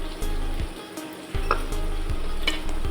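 Kadhi ingredients sizzling and frying in a pan, a steady close crackle with periodic stirring scrapes and soft knocks of a spoon against the pan, no voices.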